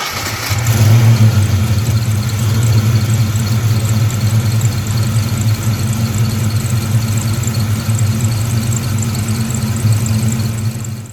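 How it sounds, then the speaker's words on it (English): A Ford 302/351 Windsor V8 in a Fox Body car cranks briefly, catches and settles into a loud, steady idle with a deep low rumble and a constant high whine running over it, close up and without talk. "I'm going to crank this car and show you how it"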